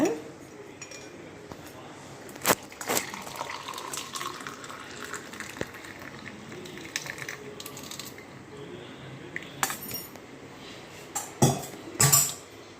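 A hot papaya leaf and turmeric decoction is strained through a filter into a tumbler in a kitchen. Liquid trickles and splashes while metal utensils clink and tap now and then, close at hand.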